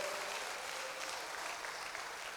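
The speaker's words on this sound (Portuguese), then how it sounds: "Aplauda o Senhor mais uma vez" Dense, continuous clapping fills a Baptist church as the congregation applauds during worship, heard as a soft, even wash from a distance.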